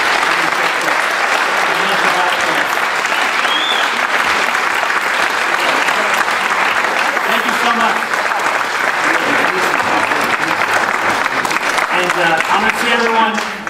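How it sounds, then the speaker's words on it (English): An audience at a college performing arts center gives a sustained round of applause, dense and steady throughout, with a few voices faintly audible beneath the clapping. "please give a round of applause to our program"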